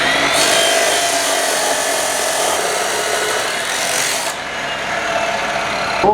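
A power saw grinds steadily through 2-inch ID Schedule 40 pipe being cut into two-foot legs for a swage block stand, loud and close, with a continuous rasping whine that drops briefly near the end.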